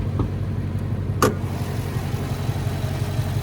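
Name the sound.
Dodge Charger R/T 5.7 liter V8 engine idling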